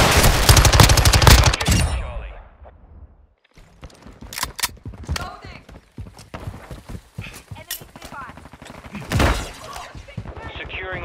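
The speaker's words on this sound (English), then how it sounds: "Throwing flash grenade!" Gunfire and a thrown flash grenade in Call of Duty Modern Warfare II, a loud dense burst of shooting, then scattered sharp shots and impacts under in-game voice callouts.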